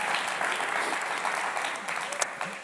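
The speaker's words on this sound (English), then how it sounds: "you can clap for that" A church congregation claps loudly and steadily, fading toward the end, with talk faintly mixed in.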